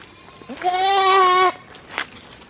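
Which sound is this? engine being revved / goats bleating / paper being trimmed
goats bleating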